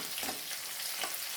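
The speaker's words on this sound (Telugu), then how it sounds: "బాగా పోపుని వేగనిద్దాం" Chillies, garlic and whole spices tempering in hot oil for a coconut curd chutney, a dense, even sizzle heard close for a moment with faint stirring.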